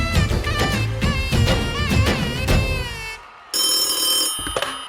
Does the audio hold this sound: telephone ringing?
yes